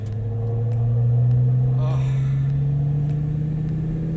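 A cheap homemade turbo Lamborghini engine drones loudly and steadily as it revs, its pitch climbing slowly with a brief rise of hiss in the middle, while a person talks over it.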